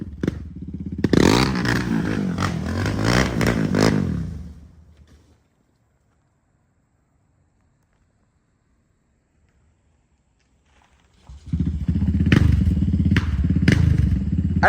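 A Raptor 700 ATV with a Monster exhaust roars and revs nearby for several seconds, fades into a long quiet gap, then blasts back with loud, throaty revving.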